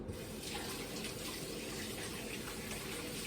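Tap water running steadily into a kitchen sink while hands are rinsed, a close, continuous rushing splash with no talking.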